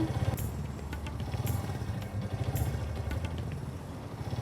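A motorbike idles close by with a steady low engine rumble and intermittent mechanical clatter, holding a constant level throughout with no one speaking.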